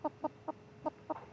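A large hen at a veterinary check, heavy at about 2.47 kg with a massively swollen crop, gives six short clucks in a steady, evenly spaced rhythm, close and fairly soft.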